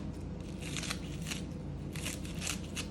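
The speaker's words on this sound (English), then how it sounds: "Then I've got some green onions that I'm just going to chop with a pair of scissors just on top." Kitchen scissors snip green onions over a beefy taco mac dish, giving a few quiet, crisp cuts in small uneven bursts against a soft background, with no talking.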